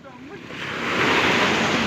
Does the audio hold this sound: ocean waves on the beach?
yes